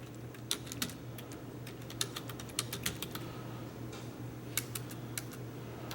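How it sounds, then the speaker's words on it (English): Irregular keyboard typing: sharp key clicks in quick bursts with short pauses, close by, over a steady low hum. "I'm typing at a very strange angle here to make the filming possible"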